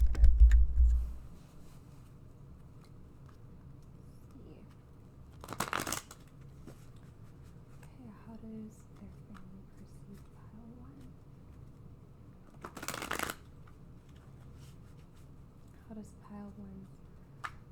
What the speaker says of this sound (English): So let's get some cards from the tarot here.